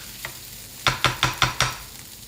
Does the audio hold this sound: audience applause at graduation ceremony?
no